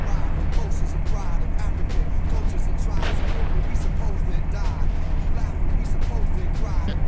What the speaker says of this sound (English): Taking fire! Yeah, it's heavy artillery.